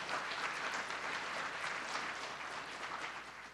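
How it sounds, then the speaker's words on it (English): Audience applause at an Army Women's Foundation Hall of Fame ceremony, sustained steady clapping from a crowd throughout, moderately distant and fading slightly toward the end. "Let's have another round of applause for all our sponsors"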